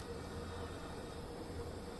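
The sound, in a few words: train moving in video game Transport Fever 2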